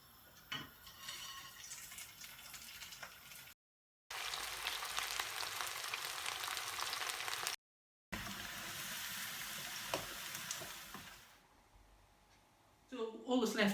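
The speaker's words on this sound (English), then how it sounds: "Once that beef has been drying on there for about 2 minutes or so, we'll fry it again." Beef pieces frying a second time in hot oil sizzle in a loud, steady crackle, broken by two short silences, then fading at the end into clattering utensils and pan noise.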